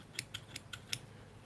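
Surgical scissors snip and click five times in a quick, even series, crisp and close against a quiet background.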